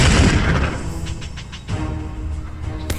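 Explosions and gunfire in the battle video game Epic Battle Simulator 2, a loud rumbling boom at the start, then a dense, continuous wash of distant blasts and crackling shots, with a sharp hit near the end.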